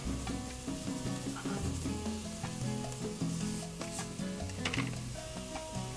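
Oregano and salt toast in a pot for Caldo Gallego, a Cuban white bean soup, giving a steady, close sizzle with stirring that runs the whole time beneath tonal background music.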